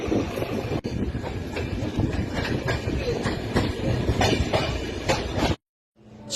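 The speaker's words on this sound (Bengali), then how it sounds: "এই যে আমাদের ট্রেনটা এবার ঘুরে যাচ্ছে" A train on a hilly route toward Bhutan runs along the rails as it curves, heard from on board: steady rumbling with rhythmic clickety-clack wheel beats, fairly loud and close, before an abrupt brief silence at the end.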